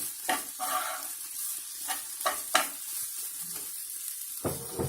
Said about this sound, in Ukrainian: М'ясо я подрібнила, додаю до цибулі, розмішую.